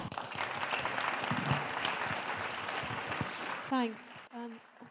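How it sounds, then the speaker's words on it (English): Loud, dense applause from a political meeting audience filling the room steadily, with whoops and a cheer rising near the end as the clapping begins to thin. "I'd like to invite everyone to give a very warm round of applause to Noga"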